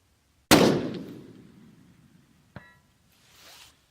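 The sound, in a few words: rifle shot hitting a steel target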